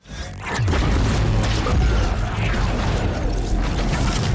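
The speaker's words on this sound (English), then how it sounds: "There's the explosion." Explosion in the Arcane animated series finale, a sudden rise into a loud, sustained rumbling roar with crashing debris and whooshing layers that holds steady to the end.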